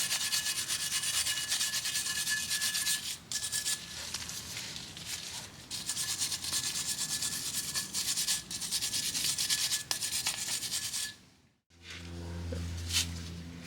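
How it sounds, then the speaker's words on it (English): Rust is scrubbed off the hub of a 2007 Toyota Highlander Hybrid during a front brake rotor job, with a steady, close rasping rub that runs continuously with brief pauses, stops near the end, then resumes briefly. "make sure to clean all this rust off of here. Try to get all the rust out as much as you can."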